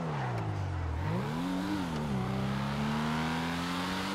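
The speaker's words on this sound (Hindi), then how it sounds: "क्या आवाज है भाई गाड़ी की" A powerful Mercedes car engine in a GTA roleplay video game revs up and down, the tone dipping and then climbing into a sustained, loud synthetic roar.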